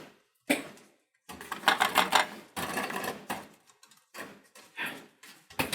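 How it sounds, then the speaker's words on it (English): Uneven plastic clattering and rattling from the cassette tape drive assembly of a Sony stereo being taken apart; close, irregular bursts of clicks and knocks separated by short silences. "Whatever that rattling is, we'll find it"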